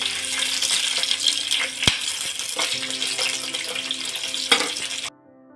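Chopped capsicum sautéing in hot oil for a potato gravy curry, a steady close sizzle with occasional stirring clatter before it cuts off abruptly.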